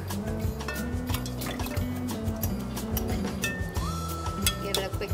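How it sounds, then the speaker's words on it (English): Muddled lemon and mint liquid pours and trickles into a glass for a mojito, with a few light clinks, close up, over quiet background music. "I'm gonna go ahead and pour that into our drink."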